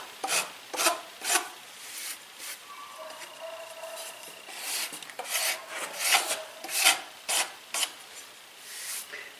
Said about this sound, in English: if you drag one of them old lead files the right way, it'll just hew that